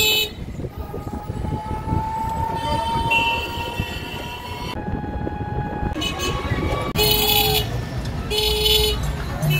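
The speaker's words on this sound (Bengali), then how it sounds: "1 নম্বর প্ল্যাটফর্ম ট্রেন নামাবে তোমাদের" A train at platform 1 of a railway station, loud and close: a continuous rumble of rolling cars, a sustained horn, then several sharp, shrill horn blasts near the end, with people talking around it.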